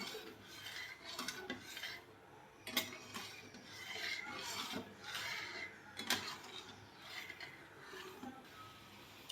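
A spoon stirring sugar and water in a metal pan while making syrup for Karachi halwa, with repeated scraping and rasping strokes and occasional sharp clinks against the pan, close and steady.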